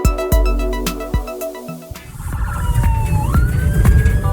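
A police car siren wails loudly and close, starting with sharp rhythmic yelping bursts, then shifting into a rising, sweeping tone over the roar of a car speeding at high speed along city streets.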